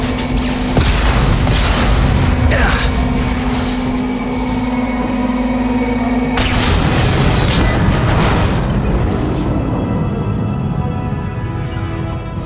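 A Concussive Shot power blast from the game Mass Effect 2 booms out loud and close, set against heavy layered combat noise with rumbling and bursts throughout and no voices.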